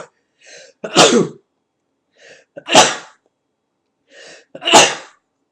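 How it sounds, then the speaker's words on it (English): Three sneezes close to the mic, each one preceded by a short breathy inhale, spaced evenly a couple of seconds apart. "you had to listen to me sneeze"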